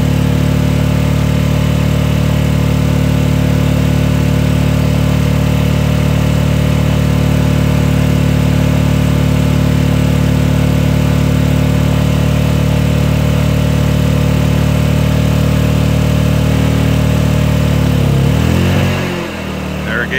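A Honda EU2000i inverter generator that won't produce its rated output runs loud and steady, with a constant droning hum close up, until its pitch wavers and drops briefly near the end.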